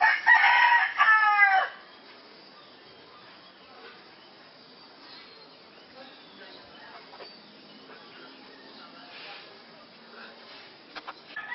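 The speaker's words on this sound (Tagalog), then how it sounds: "naninirahan ng ilang hayop tulad ng napakaraming manok na ito" A rooster crows loudly near the start, then quieter farmyard chicken sounds and faint clucking continue in the background.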